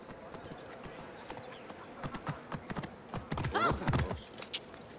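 Horse hooves clip-clopping in Assassin's Creed Origins, an uneven run of hoof falls that grows louder and busier toward the end, with a brief whinny-like cry amid the steps and no talk.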